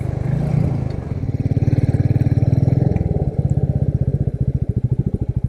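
A Royal Enfield Meteor 350 motorcycle with a low seat runs steadily at close range, its single-cylinder engine thumping in an even, pulsing rhythm with no one talking.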